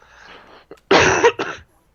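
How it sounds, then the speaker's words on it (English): A sudden, loud cough bursts out after a stretch of quiet murmuring, followed by a second, shorter cough close to the mic. "I'm the one who's coughing all over the place."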